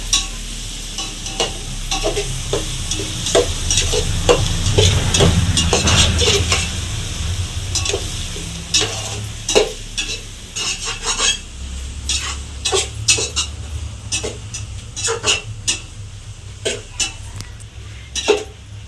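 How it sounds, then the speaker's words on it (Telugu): A spoon stirs tomato rice with turmeric in a pan, scraping and clinking steadily against the metal over a soft sizzle, with sharp taps toward the end and no talk. "బాగా అంతా కలపాలండి"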